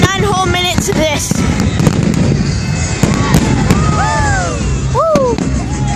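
Fireworks burst in a dense, continuous barrage of loud crackling bangs and pops, with whistling rockets rising through the noise; a person cheers faintly nearby.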